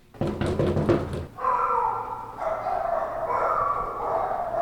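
A dog barks in a quick burst, then a longer droning, whiny howl-like cry continues, fairly loud and close, with no talking.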